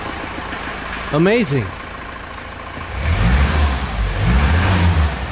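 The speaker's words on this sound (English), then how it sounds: "that means you can pull it all the way out, and the car starts." A vintage car engine turns over and starts, then settles into a low idle with a few revs building toward the end, while people talk and react over it nearby.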